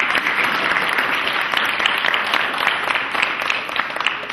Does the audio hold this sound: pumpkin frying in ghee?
no